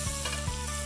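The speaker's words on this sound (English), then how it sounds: "I'm pan frying these separately to the beef so they remain crisp and add a different texture" Mushrooms and bacon sizzle as they pan-fry separately from beef for slow-cooked short ribs, a steady close crackle with no talk.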